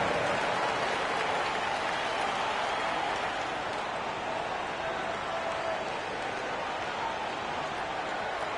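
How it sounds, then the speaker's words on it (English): Steady, dense applause from a basketball crowd honoring the 407 during a timeout in the third quarter, a continuous wash of clapping that holds evenly throughout with no clear voices on top. "Big round of applause for the 407."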